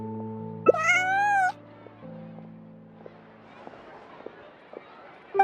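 A cat meows once in a video game, a clear bright meow over soft background music, followed by quieter game ambience and faint clicks.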